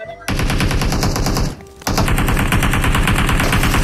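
Rapid automatic gunfire from the mobile battle-royale game PUBG Mobile rattles in dense, loud bursts, stopping briefly partway through before resuming at the same relentless pace.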